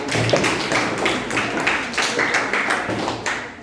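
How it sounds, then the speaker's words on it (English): Classroom of eighth-grade students clapping together for a classmate during a biology lesson, a steady burst of many hands at close range filling the room with a few voices mixed in. "Clap for your friend."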